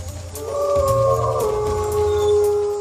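Howl of a prehistoric bear-dog, a lion-sized Miocene predator of North America: a single drawn-out, wavering tonal howl over a low rumbling bed, sustained at steady loudness for about three seconds with no talk.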